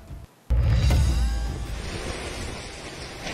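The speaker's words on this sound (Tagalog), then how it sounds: "malakas na buhos ng ulan at malakas na hangin ang naranasan sa probinsya ng Isabela" Loud, steady roar of typhoon heavy rain and strong wind in Isabela province, Philippines, a dense broadband rush that swells suddenly after a brief quiet start and keeps going.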